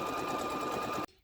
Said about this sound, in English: I'm going to continue to sew all the way down so I get to the very end.